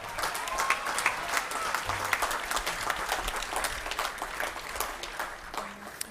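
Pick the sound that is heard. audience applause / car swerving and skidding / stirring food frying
audience applause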